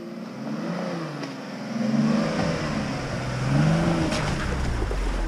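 A Jeep Cherokee Trailhawk 4x4 on an off-road trail has its engine hum rising and falling in two surges as the driver stays on the gas over a rut, with low rumbling throughout.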